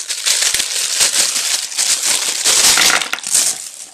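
Paper crackles and crinkles loudly up close, a dense run of sharp rustling snaps as it is handled and unwrapped.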